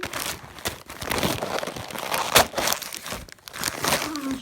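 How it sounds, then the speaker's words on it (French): Parcel packaging being unwrapped, with a near, continuous crinkling and rustling of plastic, broken by sharp crackles and brief tearing sounds. "je déballe."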